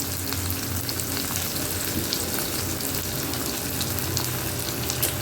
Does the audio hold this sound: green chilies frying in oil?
yes